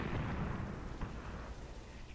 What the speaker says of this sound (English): Our heavy machine guns are firing at them, and I also told my other mortar troop